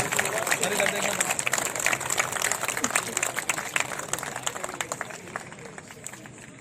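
An audience claps for an honored elder at a Jat community Diwali gathering in Greater Noida, sustained applause that gradually thins while a voice speaks over it.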